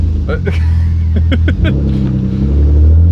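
A BMW E28 M5 drives along with a low, steady engine drone and rumble inside the cabin, while people talk loudly over it.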